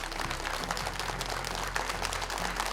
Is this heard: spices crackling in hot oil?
no